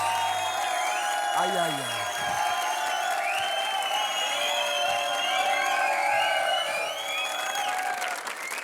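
Studio audience at a Hindi TV comedy show clapping loudly and steadily throughout, with a voice calling out briefly over the applause near the start.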